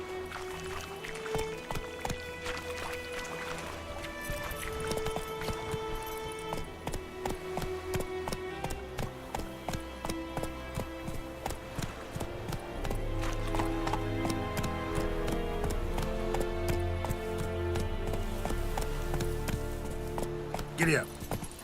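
Horse galloping in The Witcher 3, rapid rhythmic hoofbeats close by and steady throughout, growing heavier toward the end, with occasional faint voices and a brief snort.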